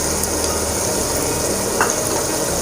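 Ginger-garlic paste hits a pan of half-softened onions for peas pulao, setting off a steady, loud sizzle and crackle of frying that holds evenly throughout with a brief stir partway.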